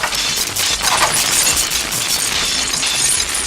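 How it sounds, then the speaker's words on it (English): A loud, dense burst of breaking sugar glass during a Jackie Chan action stunt in a shopping mall, a continuous bright crashing and tinkling wash of shards that fills the whole stretch without pause. "The final showdown is filled with squibs and sparks and shattered sugar glass"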